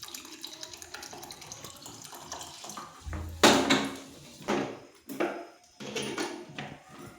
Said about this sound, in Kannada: ತುಂಬಾ ಹಾಕ್ಕೊತೀನಿ ನೀರನ್ನ